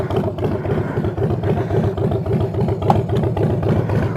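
A motorcycle engine idles steadily nearby, a continuous low, throbbing mechanical rumble with light clatter and no voices.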